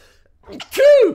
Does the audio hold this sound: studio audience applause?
no